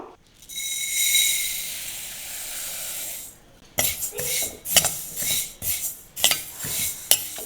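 Black sesame seeds, about half a cup, dry-roasting in a kadai: a steady sizzling hiss for several seconds, then a run of close clinks and scrapes of a spoon stirring against the pan.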